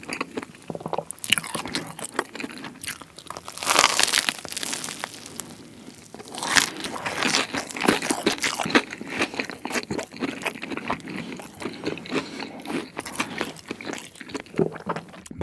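Steady crunchy biting and chewing of a corn dog and spicy tteokbokki with Bburing sauce, close and loud, with repeated crisp bites and wet chewing throughout and no talking.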